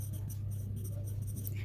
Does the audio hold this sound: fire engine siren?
no